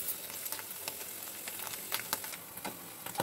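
Pumpkin pieces fry gently on a low flame for a sweet kheer, giving a soft, continuous sizzle with scattered light crackles and pops, close and moderately quiet, with no talking.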